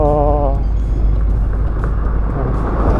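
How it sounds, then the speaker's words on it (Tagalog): A Honda TMX Alpha 125 motorbike engine runs steadily at close range while riding, a constant loud drone with rough low rumble and some wind buffeting. "narinig ko nga itong makina ng ating TNX. Maingay talaga."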